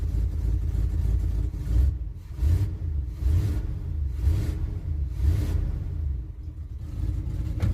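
A 1979 Chevy C20 truck engine, long parked, runs with a low, steady rumble that rises and falls in rhythmic surges as it pulls away, close and fairly loud.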